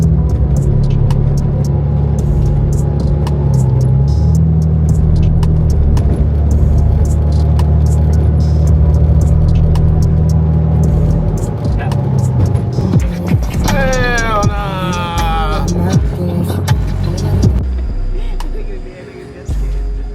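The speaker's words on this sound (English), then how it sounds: "And this traffic ain't helping either." A car driving through city traffic, heard from inside as a loud, steady low engine rumble with shifting pitch, occasional chirps and squeaks, and a voice talking partway through.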